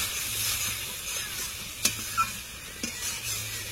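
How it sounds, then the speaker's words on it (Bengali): Spices with Kashmiri red chilli powder sauté in a pan, giving a soft continuous sizzle with a few sharp stirring scrapes and clicks, close and fairly quiet, with no talking. "কিছুক্ষণ কষে নেব।"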